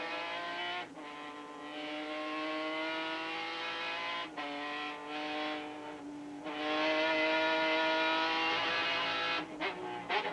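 A Porsche race car at Road Atlanta howls through the gears, a loud sustained engine note rising in pitch with brief dips at each upshift, heard from onboard.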